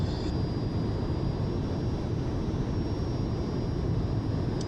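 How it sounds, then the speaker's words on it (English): An AzurPoly Fouga Magister CM.170 trainer jet in MSFS 2020 gives a steady, unbroken engine roar, loud and even throughout, with no talking. "The AzurPoly Fouga Magister CM.170. A trainer jet that can do some basic and intermediate maneuvers."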